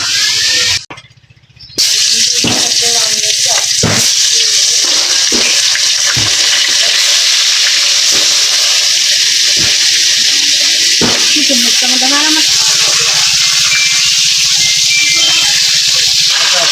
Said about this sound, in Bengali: এদিকে মাছটি ভালো হয়ে গেছে রাঙা দিলাম নিতেছে ভালো দিকে মাছটি ভাজা নিচ্ছে